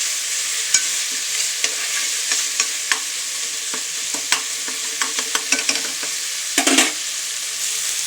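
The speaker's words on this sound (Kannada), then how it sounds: "ನೋಡಿ, ಟೊಮೊಟೊ ಫ್ರೈ ಆಗಿದೆ." Tomatoes fry in a pan with a steady sizzle while a spoon scrapes and stirs, making irregular clinks and scrapes. The cooking is part of a Kannada home diet meal and is heard alone, without talk.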